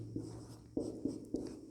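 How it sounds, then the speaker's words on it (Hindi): Pen writing a note on paper during a maths lesson, soft scratchy strokes in a few short quiet bursts over a low steady hum. "यहाँ पे हम एक नोट डाउन लिखेंगे"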